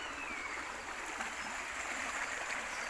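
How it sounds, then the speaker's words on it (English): Shallow river water runs quickly over rocks near an old trackway crossing below a quarry, a continuous close hiss and babble with no voices. "The water is flowing a little bit faster down here across the rocks."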